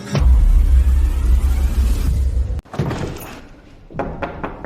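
A door slams shut with a loud, abrupt thud that cuts off a rumbling background, followed by a few fainter knocks and shuffles in a quieter room.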